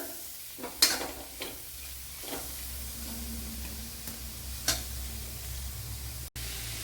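Chopped tomato sizzles in a pan of Kerala-style bitter gourd curry, a close, steady hiss of frying with a few light stirring clicks and scrapes scattered through it, without any talking.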